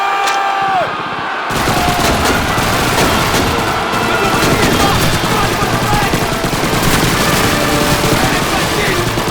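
Heavy Call of Duty 2 battle gunfire breaks out after a short lull, with dense continuous rifle and machine-gun bursts and booms that stay loud and unbroken for several seconds.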